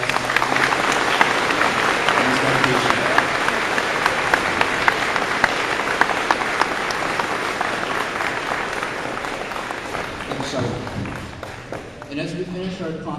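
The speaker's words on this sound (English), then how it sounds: "if we just take 2 seconds to give him a hand of applause." An audience at a school Remembrance Day assembly claps for a sergeant, a sustained loud wash of applause that fades near the end as voices emerge.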